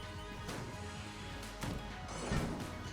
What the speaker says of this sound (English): There's explosions like that.